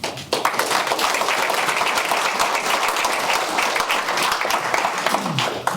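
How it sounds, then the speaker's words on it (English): A crowd at a school board meeting applauds award recipients steadily throughout, dense clapping from many hands filling the room at an even, enthusiastic level. "Give them all a round of applause"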